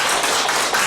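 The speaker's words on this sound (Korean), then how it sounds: "박수 한번 주세요" A lecture audience at Gangneung Yeongdong University claps in a brief, dense burst of applause, loud and close, with no talking.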